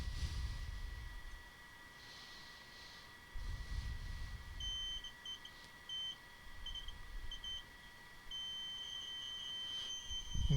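An Afinia H+1 3D printer gives short, faint electronic beeps in a repeating series during platform leveling, over a soft steady hum and low rumbles of movement.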